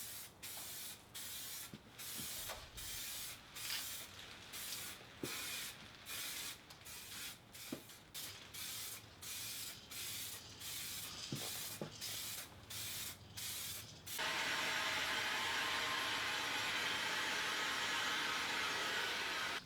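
Duracoat aerosol paint sprayed onto a Mosin Nagant rifle: a long run of short hissing bursts in a steady on-off rhythm, ending in one continuous loud spray, with no talking.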